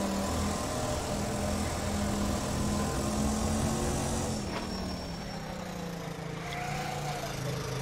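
A 4-stroke rental kart engine in rFactor 2 drones steadily at mid revs, one continuous buzzing tone that dips slightly in pitch partway through.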